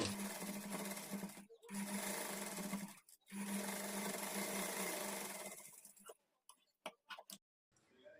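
A sewing machine stitches a strip of blouse fabric in close, loud continuous runs, pausing twice briefly before stopping and giving a few short ticking bursts at the end.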